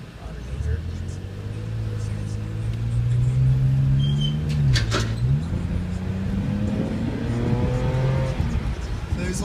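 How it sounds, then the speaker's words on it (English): Road traffic on a street lined with BMW 5 Series and 3 Series cars, engines droning as vehicles pass and accelerate. A steady, fairly loud hum rises and falls, with a voice talking over it. "Just wait for a little bit of traffic to go."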